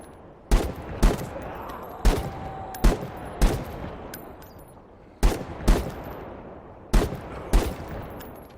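Gunfire in the shooter video game The Day Before: sharp, loud single shots and quick pairs spaced through the stretch, each cracking out with a short echoing tail over low background ambience.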